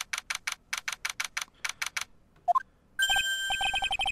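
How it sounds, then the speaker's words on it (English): An electronic phone ring from the Phoenix Wright courtroom video game sounds as a run of rapid chirping pulses. Short rising beeps and a brighter, denser ringtone burst follow it, all in a quiet room. "let's see if Maya's done with her phone call"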